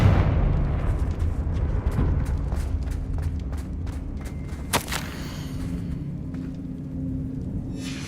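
A Confringo fire spell bursts in Hogwarts Legacy with a sharp crack near the middle, followed by a rumbling, crackling blast tail over a steady low game ambience.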